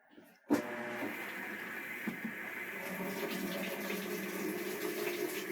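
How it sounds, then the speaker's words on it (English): Maytag Whirlpool washer filling with water at the start of a normal wash cycle, a steady close rushing flow that starts abruptly after a brief click and continues unbroken. "we'll go ahead and just start a normal wash cycle and check the water level"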